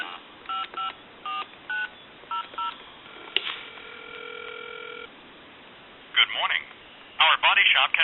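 Touch-tone keypad beeps from an AT&T Trimline telephone dialing out on a regular phone line, a series of short separate tones followed by a longer tone and then a recorded voice answering.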